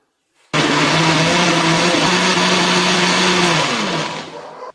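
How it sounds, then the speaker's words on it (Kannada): A mixer grinder blending mango and vanilla ice cream runs in one continuous loud whirring burst for about four seconds, then winds down. "ಇದನ್ನ ಒಮ್ಮೆ ಮಿಕ್ಸಿನ ಪಲ್ಸ್ ಮಾಡೋಣ."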